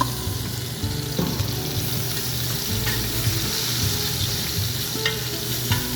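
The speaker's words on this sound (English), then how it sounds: "Now we're going in with those red onions that we sliced." Sliced red onions sizzle steadily in hot bacon fat in a pan, a loud close frying hiss with occasional stirring scrapes, no talking.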